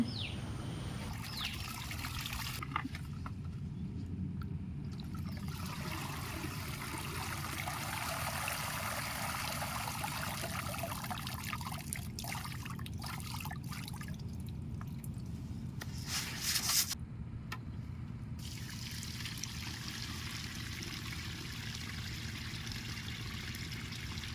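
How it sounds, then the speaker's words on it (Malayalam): Soaked paddy seeds, washed, cleared of chaff and steeped in water for twenty hours, are scooped into a sack, giving a steady wet, grainy shuffling with squishy trickles and a few sharper scrapes, close and continuous without speech. "ഇനി നമ്മളിത് ചാക്കിലേക്ക് വാരുകയാണ്"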